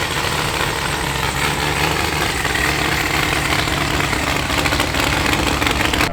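Drag-and-drive car engine fitted with custom headers and mufflers, a loud, steady rumbling idle that holds without change, close by with no talking.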